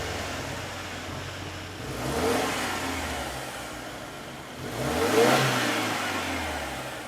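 A Subaru Ascent Onyx Limited's 260-horsepower turbo four-cylinder with a CVT accelerates twice, each moderately loud run rising in pitch from a low hum then fading back.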